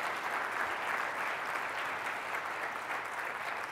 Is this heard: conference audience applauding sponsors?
yes